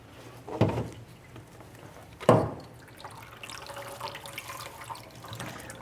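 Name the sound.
tap water filling a container for fertilizer water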